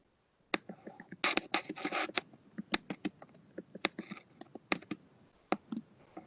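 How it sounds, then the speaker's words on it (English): Someone types on a computer keyboard, with a rapid, irregular run of sharp clicking keystrokes close by. Bursts of quick presses are separated by brief pauses, and there is no speech. "here's somebody typing."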